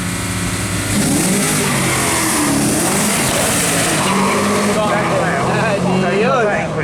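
A TVR Tuscan V8 launches hard on a sprint speed trial course, its loud engine roaring and revving through rising gears with tyre scrabble, while a commentator talks over the noise.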